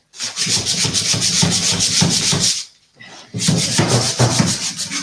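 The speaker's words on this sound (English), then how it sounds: "It has to be hand sanded all the way from here." Vintage wood veneer being sanded by hand during furniture restoration: close, steady back-and-forth rubbing strokes of abrasive on wood, a brief pause near the middle, then the scratchy strokes resume.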